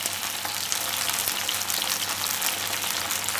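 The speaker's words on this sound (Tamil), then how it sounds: "இப்போ இதை நல்லா வதங்குற அளவுக்கு நம்ம இதை நல்லா வதக்கிக்க போகிறோம்." Diced yam sautéing in hot oil in a pan for a tamarind yam curry, giving a steady, close, even sizzle and crackle that runs the whole time with no voices.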